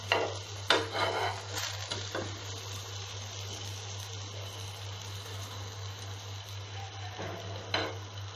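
Egg-stuffed brinjal frying in a pan is stirred, with scraping utensil clatter and occasional louder knocks over a steady low hum and faint sizzle.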